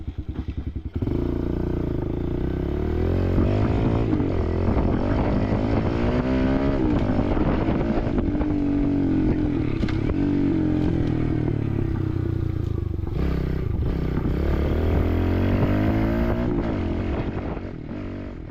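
A pit bike on stock handlebars is ridden, its small engine buzzing loud and close throughout, rising and falling as the throttle opens and eases, with some clatter and no talk.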